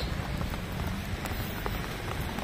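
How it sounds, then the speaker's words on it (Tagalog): Steady rain patters on a hard surface nearby, a dense, continuous hiss of drops. "Kasi umuulan na."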